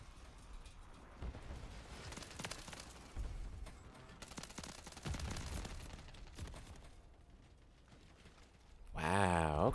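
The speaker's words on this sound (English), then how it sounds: "they got an airstrike incoming" Airstrike gunfire and explosions in Call of Duty MW3 come as repeated bursts of rattling fire and dull booms at moderate level, ending with a loud swelling blast.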